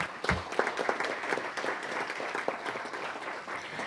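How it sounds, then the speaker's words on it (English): Applause from a crowd at a council meeting, a dense patter of many hands clapping steadily, moderately loud, with a sharp thump near the start. "Please, everyone, give them a round of applause again."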